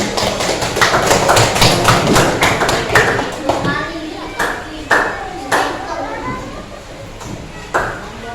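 A class gives lively applause for group 1, with a burst of sharp claps that fades into scattered single claps as a teacher and children talk.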